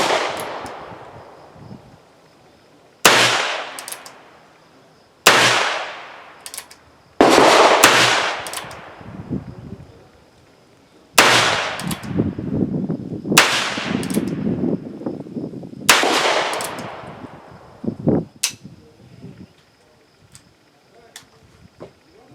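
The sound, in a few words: Heritage Rough Rider .22 revolver shots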